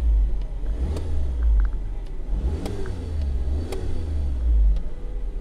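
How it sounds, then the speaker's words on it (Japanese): Mini Clubman Cooper S engine revved while parked, a low idle rumble rising in several quick blips and falling back, close and moderately loud, with no talk. "で、ちょっと吹かしてみましょうか。"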